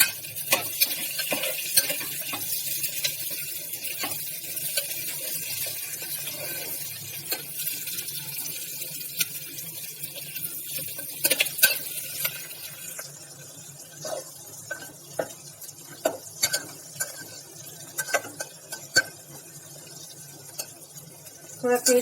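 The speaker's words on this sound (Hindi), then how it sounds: "और प्याज को हल्का गुलाबी होने तक भूनेंगे।" Onions fry with cumin and asafoetida in a pan and are stirred, with scraping and tapping clicks from the utensil over a soft, low sizzle.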